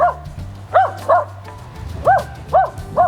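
A dog barks five times in short, separate bursts, fairly close, against a low background hum.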